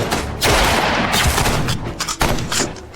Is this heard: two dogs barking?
no